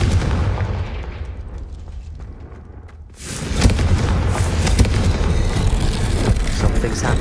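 A Confringo fire-blast spell in Hogwarts Legacy erupts after a brief lull, a loud booming burst followed by a sustained rumbling roar and crackle of combat effects.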